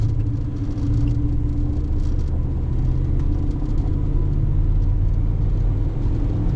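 A pickup truck engine, a 5th-gen Ram Cummins diesel, pulls hard under acceleration as a steady low rumble and drone from inside the cab, with no talking.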